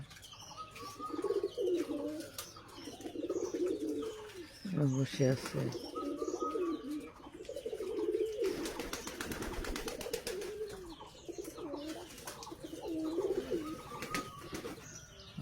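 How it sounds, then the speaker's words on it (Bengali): Pigeons coo repeatedly at their nest in a village setting, a soft rhythmic burbling that recurs throughout, with someone talking over it at times. "এই যে কবুতর"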